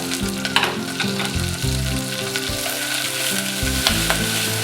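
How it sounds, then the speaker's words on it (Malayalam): Onion frying in a pan with green chillies and curry leaves after mustard seeds have popped, a loud, steady sizzle under repeated stirring scrapes throughout. "സവാള ട്രാൻസ്പെറൻ്റ് ആകുന്നത് വരെ ഇളക്കുക."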